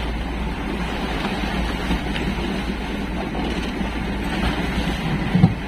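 Small outboard boat engine running again right after restarting, a steady low droning hum at close range with water and wind noise around it, no talk.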